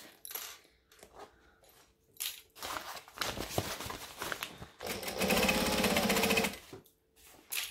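Sewing machine stitching a fabric lunch bag, short bursts of rapid mechanical whirring and clatter, with a longer steady run near the end, between pauses and small handling sounds.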